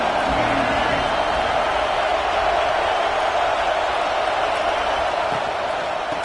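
Stadium crowd in the NCAA 26 football video game, a loud, dense, continuous roar of many voices that holds steady throughout.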